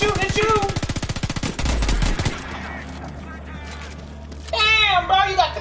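Automatic gunfire rattles in fast bursts in the video game Homefront: The Revolution, mixed with a player's voice talking over it and a low rumbling game soundtrack.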